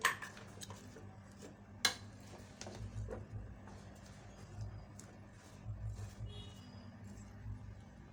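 A spoon clinks and scrapes against a bowl while a dish is mixed, producing scattered light metallic taps and soft stirring scrapes at low volume.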